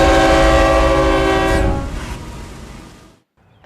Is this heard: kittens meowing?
no